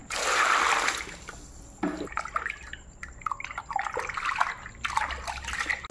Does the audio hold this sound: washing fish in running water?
yes